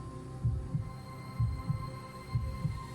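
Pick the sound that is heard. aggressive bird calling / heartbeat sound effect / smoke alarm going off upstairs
heartbeat sound effect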